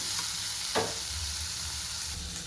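Onion, chili, ginger and tomato frying in oil in a kadai for kadai paneer, a steady close sizzle with one quick scrape of stirring.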